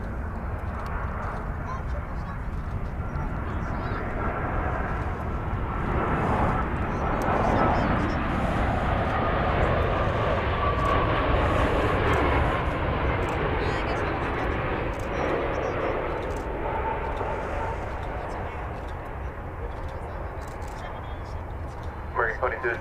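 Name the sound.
American Airlines Boeing 787-8 Dreamliner landing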